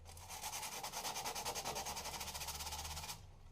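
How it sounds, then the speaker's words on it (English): Rapid rhythmic scraping of sandpaper on a car wiring ground connection on a Citroën AX 16V, quiet strokes in a fast steady series for about three seconds, then stopping. "Just have to sand up the connection first so it makes good contact."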